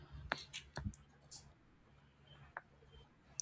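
Several sharp computer mouse clicks sound close and fairly quiet, scattered irregularly in a hushed room with a faint background hum.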